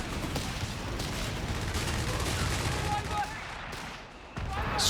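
Strafing run in Company of Heroes 3, a steady rolling barrage of rapid gunfire and explosions filling the battlefield, heard under a commentator's voice.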